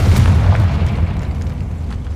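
A Confringo spell explodes in Hogwarts Legacy with a single heavy, loud boom whose deep rumble fades slowly over about two seconds.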